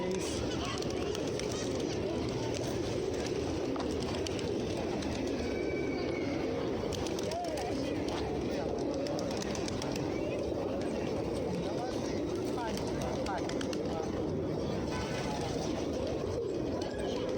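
Pigeons or doves cooing at a bird show, soft repeated coos set against a dense, steady background of crowd noise and other birds throughout.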